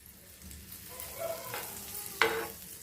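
Stuffed bread toasting in butter on a pan, a quiet, gentle sizzle with a few light scraping touches and one sharper clatter near the end.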